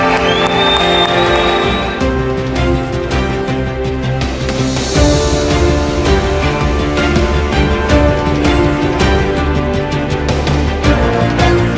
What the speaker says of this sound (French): on acclame le Seigneur très fort